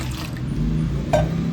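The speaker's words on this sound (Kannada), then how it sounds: "ಮಿಕ್ಸಿ ಜಾರಿಗೆ 2 ಕಪ್ಪಷ್ಟು ನೀರು ತೊಳೆದು ಹಾಕೊಳ್ತಾ ಇದ್ದೀನಿ." Water poured into a mixer jar, about two cups, a steady faint pour under low background hum with a brief brighter splash near the end.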